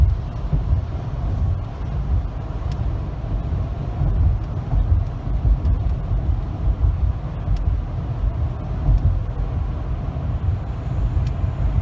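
A commercial motor vehicle drives down the road, giving a steady, loud low rumble of engine and road noise with wind buffeting, constant throughout with no talk.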